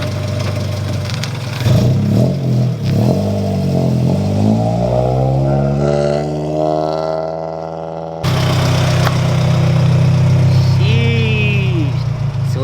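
A car engine idling and then revving as it pulls away for a test drive on new wheels, pitch climbing through the gears, close and loud, with a distant voice faintly heard.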